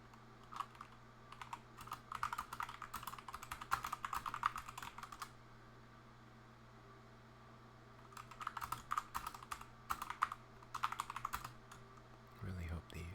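Computer keyboard typing while coding in C#, steady bursts of clicky key presses in two long runs separated by a quiet pause, close and fairly soft over a constant low hum.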